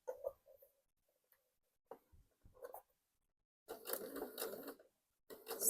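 A sewing machine stitches a wrap dress seam in several separate bursts: short runs early on, then a longer, louder run of steady whirring and a final burst at the end, with quiet pauses between.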